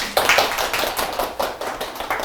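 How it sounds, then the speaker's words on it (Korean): A crowd of about ten young adults claps hands at the start of a startup-business lecture, a dense, steady run of overlapping claps at moderate volume with no talk over it. "예, 박수 한번 치면서 시작할까요?"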